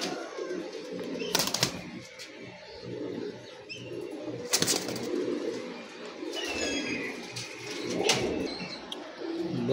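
Teddy Bullet breed baby pigeons coo softly and repeatedly near at hand, with occasional bursts of wing flapping and sharp rustling, no voices.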